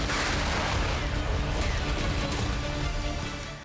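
Heavy missile and artillery strikes pound Kharkiv, Ukraine, a dense, loud rumbling barrage of booms and blasts that runs unbroken for several seconds before easing slightly at the end.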